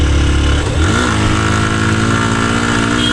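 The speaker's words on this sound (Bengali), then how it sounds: "তোমার বাইকে পাওয়ার পাচ্ছে না" A motorcycle engine labours uphill in first gear, lacking power on a hill road, its loud, steady low drone close and continuous throughout with a slight rise in pitch early on.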